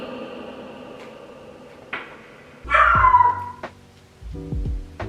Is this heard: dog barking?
yes